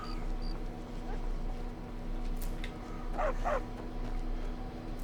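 Dog in the video game Skyrim gives a couple of short yips over a steady low hum of game ambience, fairly faint.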